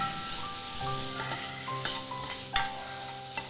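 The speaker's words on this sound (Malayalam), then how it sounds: "ചേർത്ത് കൊടുത്തിട്ട് നന്നായി വഴറ്റി കൊടുക്കുക" Chopped tomato and green mango sauté in hot oil in a pan, with a soft continuous sizzle and a few sharp scrapes of a spoon stirring the pieces, close and alone.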